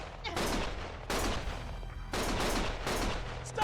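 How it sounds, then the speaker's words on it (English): Gunfire in the video game Lost Judgment: dense bursts of rapid shots in three loud waves with brief dips between them, filling the whole scene. "Stop shooting!"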